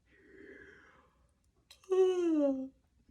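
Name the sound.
yawn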